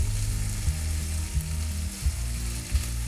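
Chicken pieces sauté in hot oil in a sauté pan, giving a steady close sizzle while a utensil stirs them slowly, with a few soft scraping knocks against the pan.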